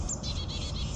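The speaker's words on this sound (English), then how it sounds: "So orange crown warbler came in close. It's a nice little flock of birds." Small flock of orange-crowned warblers calling in winter, a quick string of thin high chips and tweets close by against a quiet outdoor backdrop.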